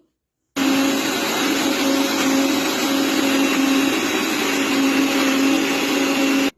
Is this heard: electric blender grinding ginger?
yes